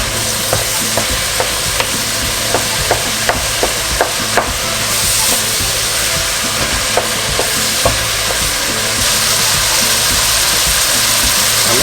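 A spoon stirs an onion and turmeric mixture in a hot pan, giving a loud, steady frying hiss broken by a string of sharp scraping clicks, with no voices.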